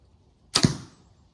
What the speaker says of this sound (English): A lot of oomph in the hand when I shoot it, but it's not loud